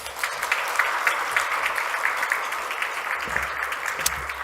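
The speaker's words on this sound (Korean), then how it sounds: "박수 한번 해줘." A church congregation at a Sunday worship service breaks into steady, dense applause, a sustained wash of many hands clapping with no clear pauses throughout.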